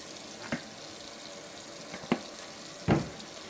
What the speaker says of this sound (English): Let me wash my hands right here.